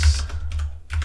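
Quick taps on a computer keyboard while entering text for a silk-screen business card design, a short burst of close, crisp keystrokes with a brief gap.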